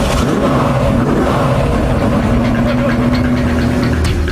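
The Victor drag racing car's engine, running on normal forecourt fuel, roars loudly and continuously at full bore during a world record attempt, a dense unbroken engine drone with no voices.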